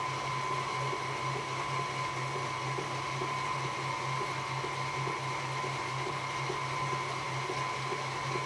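An electric mixer creams butter and sugar for a caramel tart, giving a steady, unbroken motor whir with a constant tone that stays level and close throughout, with no talk over it.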